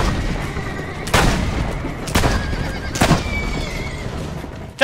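In Assassin's Creed Brotherhood, a horse whinnies amid clattering hooves and sharp booming bursts of gunfire, loud and close, with several sudden impacts spaced about a second apart.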